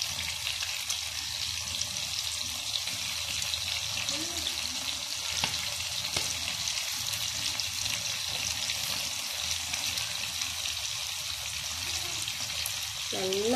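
Chicken frying in oil in a pan, a steady close broadband sizzle running throughout with occasional faint stirring clinks and no talking.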